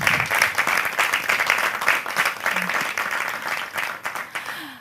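An audience at a televised eloquence and debate event bursts into dense, steady applause, with many hands clapping continuously and fairly loud throughout.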